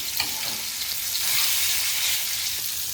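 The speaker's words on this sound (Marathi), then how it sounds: "आता दुसऱ्या साइडने आहे ते आपण ओपन ठेवूनच भाजायचं आहे" Mackerel fries in a pan with coconut masala, a loud continuous crackling sizzle filling the whole stretch at close range, with a few light stirring scrapes.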